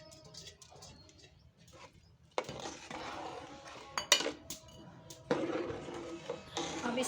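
Rice being stirred in a cooking pot of boiling water for matar pulao, giving scraping clinks and clatters of a spoon against metal, soft at first and then louder, under a voice.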